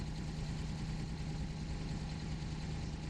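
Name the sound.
car engine idling in the video game BeamNG.drive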